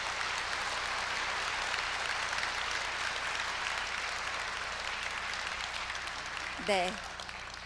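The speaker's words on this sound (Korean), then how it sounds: "큰 박수로 시작하겠습니다." Applause fills a hall at a university president's inauguration ceremony, a steady wash of many hands clapping at moderate distance, before a single short spoken word near the end.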